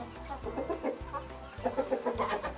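Australorp hens in a backyard coop clucking softly and repeatedly, several birds close by in a steady murmur with no talk.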